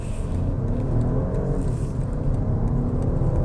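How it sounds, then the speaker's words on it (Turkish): A 2025 BMW 220 Gran Coupe accelerating eagerly, its engine drone and tyre roar loud and steady with a faint rising whine, heard from inside the car without talk. "görüyorsunuz gayet istekli hızlanıyor."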